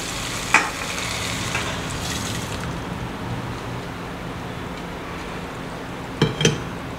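Boiled dal goes into a sizzling tadka for Nagauri dal and is stirred, giving a continuous broad frying hiss with a couple of sharp clinks of a spoon against the pot near the start and end.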